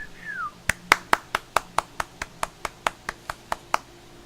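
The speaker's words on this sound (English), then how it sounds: "Give the home team a round of applause there, buddy." Two podcast hosts clap for the home team, about fifteen crisp, evenly spaced hand claps, close and solo, starting after a short vocal sound.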